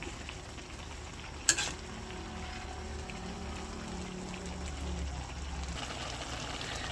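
Susian sautéed with chayote and moringa sizzles softly in a pan as it is stirred, a steady faint frying hiss with one brief clink of a utensil against the pan.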